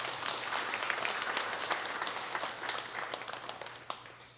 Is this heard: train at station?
no